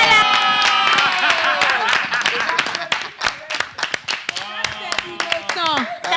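Sharp hand claps from a few people mixed with lively, overlapping chatter and laughter, loud and close, with talking continuing throughout.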